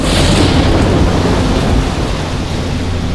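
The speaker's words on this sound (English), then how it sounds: "I have never seen a storm this bad!" Animated-series storm at sea: a steady, loud roar of heavy rain and rumbling thunder fills the whole stretch, with no voices over it.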